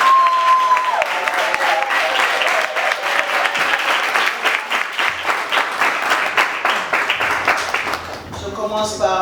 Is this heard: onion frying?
no